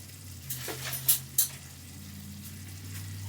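Ground hamburger and vegetables cooking in a pan on low heat, with a soft steady simmer and a few sharp clinks of a spoon against the pan, no voices.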